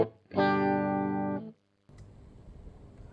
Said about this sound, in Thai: เริ่มที่เสียงคลีนก่อนเสียงคลีนพิกอัพ ตัวโพซิชันบิดกับกลางนะครับ